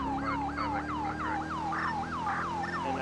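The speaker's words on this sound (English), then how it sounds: "we're gonna shut down our siren once we get onto the freeway" A police car siren wails in a cop role-play video game, a steady repeating rise-and-fall cycle about every third of a second, loud and continuous over a low engine hum, with no talking.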